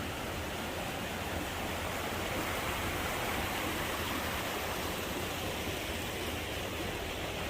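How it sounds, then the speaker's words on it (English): Steady, dense rush of river water at Northside Creek in Buffalo, Wyoming, a continuous broadband roar of flowing current that stays even and close throughout with no voices. "I'll show you the river here."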